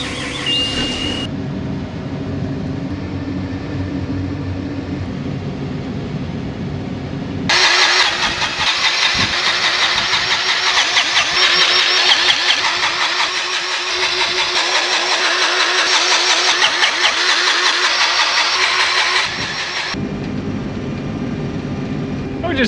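A farm sprayer engine cranks over and catches, then runs loud and steady for several seconds before dropping back, heard close with a quieter mechanical background before and after.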